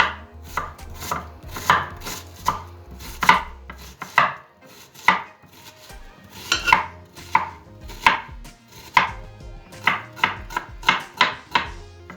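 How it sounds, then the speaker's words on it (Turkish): A knife chops onions into large rings on a cutting board in sharp, uneven strokes, close and distinct, with short pauses between groups of cuts. "Soğanlarımı da şimdi iri halkalar halinde doğrayacağım arkadaşlar."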